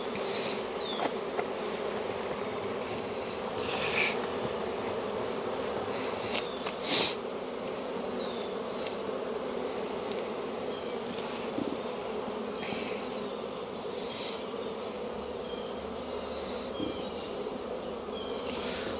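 Honeybees buzzing around an opened hive during a frame inspection, a dense continuous drone with individual bees zipping past the listener now and then, no talking.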